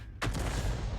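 Bat.-Châtillon 155 artillery gun in a tank video game fires one sharp, loud shot that cuts in abruptly, then leaves a long booming rumble that lingers to the end.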